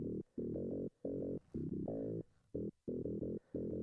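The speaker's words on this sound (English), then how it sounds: "for now, I'm just using a Logic internal sound" A quiet synth bass part from a Logic internal sound plays short repeated notes in a steady pulsing rhythm, each a rounded tone separated by brief gaps.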